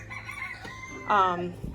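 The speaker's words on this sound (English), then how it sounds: "This chicken is really annoyed with me right now because it wants to lay an egg." A hen eager to lay an egg gives a short, close, loud burst of clucking calls, alone with faint background noise.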